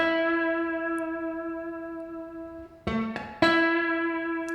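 Slide guitar holds a long sustained note with gentle vibrato, then slides into a couple of quick picked notes that ring on, close and moderately quiet, played alone.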